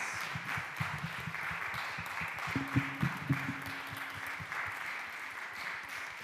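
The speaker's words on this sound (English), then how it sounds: "we give great, once again, applause to Anne-Mari. Great cheering and the panel, with all the panelists" Seminar audience applauding a festival-heritage panel in Kaustinen, a steady wash of clapping throughout with a few brief tonal pings mixed in, no talking over it.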